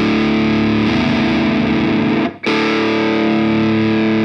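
Electric guitar chord ringing through an overdriven Diezel VH Micro head with a warm, slightly gritty blues tone, mids pushed up, sustained and then cut off briefly before sounding again.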